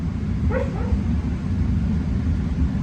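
A dog gives a short, whiny yelp-like vocalization over a steady low rumbling background, then the noise continues without further calls.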